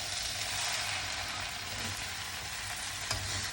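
Pineapple fried rice sizzles steadily in a pan after the gas is turned off, a continuous broadband frying hiss with faint stirring scrapes and a brief clack near the end, no voices.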